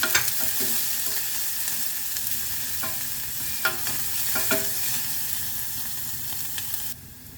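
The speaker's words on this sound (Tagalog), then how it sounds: "Gisa-gisa ng onions." Onions sautéing in a hot pan: continuous loud sizzling hiss with intermittent spatula scrapes and stirring knocks, close by, fading near the end.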